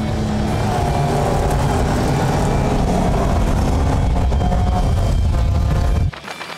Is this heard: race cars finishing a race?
yes